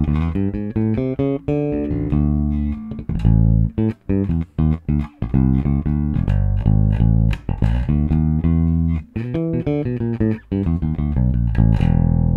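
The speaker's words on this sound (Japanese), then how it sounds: "オーディオインターフェース直で繋いでるこのベースの音がこんな感じです" A dry, clean passive bass guitar plugged straight into an audio interface, played alone, plucking a busy run of low notes with steady rhythm and a few brief pauses between phrases.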